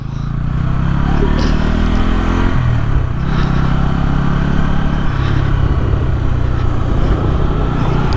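A Bajaj Pulsar N160 4V motorcycle engine held at high revs in sport mode, a loud continuous buzzing drone with pitch dipping and rising slightly as the throttle shifts, close to the microphone throughout.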